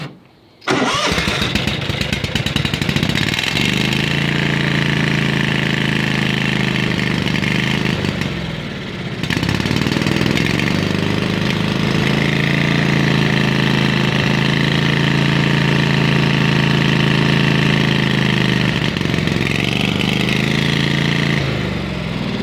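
Small engine on a mini welding rig cranks and catches in the cold, then settles into a steady, loud, close idle with a brief dip midway before running on evenly.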